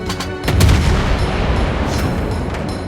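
Naval gunfire in World of Warships Blitz from a tier VII light cruiser, USS Flint: a loud, booming salvo of close, overlapping cannon blasts that fade into a rumbling tail.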